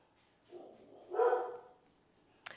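A dog gives a couple of short muffled barks indoors, the second louder, followed by a faint brief clatter, with no talk over them.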